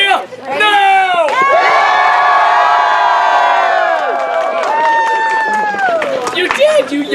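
Theater audience at an interactive Shakespeare comedy show cheering and whooping loudly, voices rising together in a sustained roar that trails off, with shouting over it.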